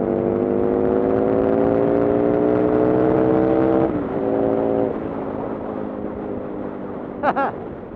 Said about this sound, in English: First time I ever hit the rev limiter.